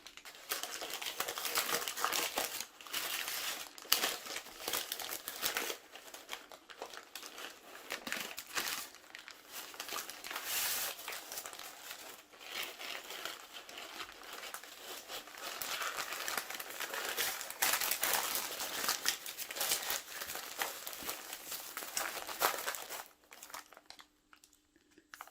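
Baking paper crinkles and crackles continuously as an orange-flavoured Swiss roll sponge is rolled back up with the paper on the outside, close, busy rustling for over twenty seconds with no talk.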